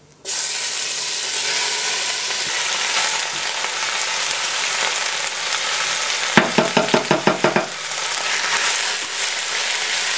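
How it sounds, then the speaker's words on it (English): Pork belly fries in oil in a pan with a loud, constant sizzle. Near the end comes a quick run of about eight rhythmic scraping stirs. "pour in another little bit of oil, and then fry the pork meat"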